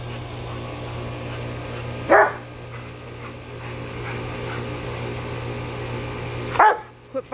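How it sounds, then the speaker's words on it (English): Two loud, isolated dog barks several seconds apart over a steady low hum, with a couple of faint clicks at the end. "Hey, stop barking."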